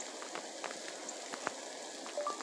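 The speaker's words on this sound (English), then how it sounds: "The water tower is thawing out." Water drips and patters from a frozen water tower as it thaws outdoors, faint irregular drops and splashes sounding over a quiet background.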